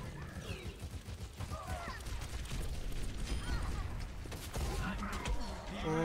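Turret fire and weapon shots in the video game Overwatch, a dense, continuous clatter of gunfire and mechanical clanks with a steady loud barrage throughout.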